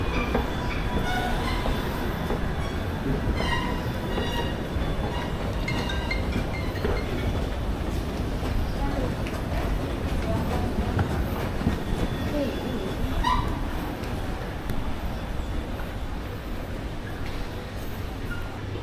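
A KTM commuter train in Malaysia, heading toward Batu Caves, runs with a continuous rumbling roar, rail clatter and occasional wheel squeal, heard from on board.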